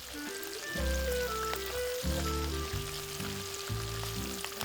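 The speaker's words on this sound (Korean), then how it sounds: "이렇게 잘 말려두었다 꺼내 기름에 튀기면 고소한 냄새가 집안 가득 퍼지곤 했답니다." Dried potato bugak chips fry in hot oil with a steady crackling sizzle, heard alongside louder background music with stepped tones that runs throughout.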